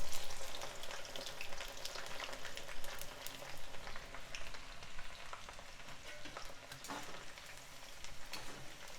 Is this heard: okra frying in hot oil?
yes